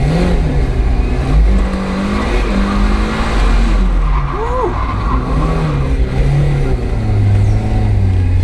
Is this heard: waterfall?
no